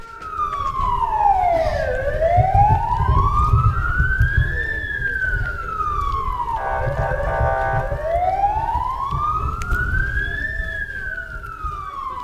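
An air-raid siren wails, rising and falling in long slow sweeps over a low rumble, steady and fairly loud throughout, in Ukraine's Khmelnytskyi region.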